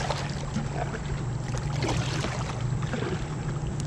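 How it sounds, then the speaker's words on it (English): A kayak out on the French Broad River, with a steady, fairly close wash of water and soft paddle splashes under light wind noise, continuous for a few seconds with no talk. "Sure some easy paddling."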